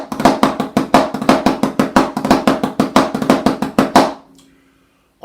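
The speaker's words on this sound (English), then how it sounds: "The drag paradiddle number 1, in one of its versions, sounds like this." A drum plays the drag paradiddle number 1 rudiment in 3/8, a crisp, rapid run of sharp strokes with grace-note drags in a lilting pattern for about four seconds before stopping.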